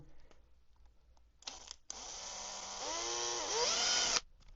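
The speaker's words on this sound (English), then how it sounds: "So now I'll grab my drill, and I have got a 1mm drill bit in" A small electric drill with a 1mm bit whines into 3D-printed fishing bait. Brief test spins give way to a sustained high-pitched run whose pitch sags and recovers under load, close and fairly quiet.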